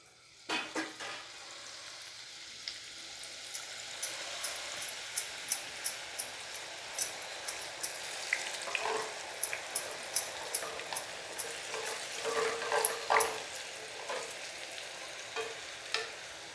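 Kara boondi, little gram-flour drops, frying in hot oil for a Diwali mixture snack: a steady soft bubbling sizzle with repeated light clicks and scrapes of a slotted spoon stirring, close and moderately quiet.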